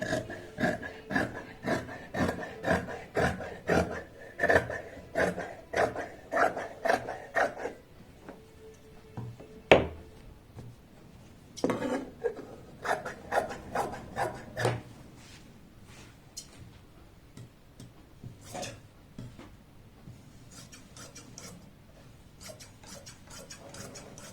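Scissors cut through churidar salwar fabric in quick, rhythmic snips, with a busy run of cuts, a brief pause, then more bursts of snipping, close and fairly quiet.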